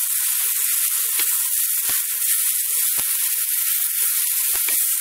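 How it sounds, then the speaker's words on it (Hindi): Dried dates (chhuhara) sizzle steadily in a pan over high heat for halwa, a continuous hissing fry with a few soft clicks and taps from the pan. "इसे 7 से 8 मिनट भून लेना है।"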